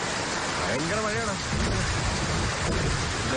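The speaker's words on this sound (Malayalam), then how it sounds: "ഭയങ്കര മഴയാണ്." Heavy rain pours steadily with rumbling thunder, loud and continuous, while a brief voice rises over the downpour near the start.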